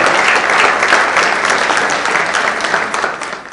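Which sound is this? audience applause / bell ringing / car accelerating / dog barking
audience applause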